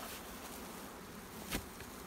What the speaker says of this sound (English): And we got lots of bees.